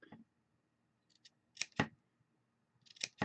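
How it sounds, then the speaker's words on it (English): Scissors snip through used baby wipes in a few quick, crisp cuts, paired closely, loud against near silence. "I'm going to cut, like, just go crazy and cut, cut, cut."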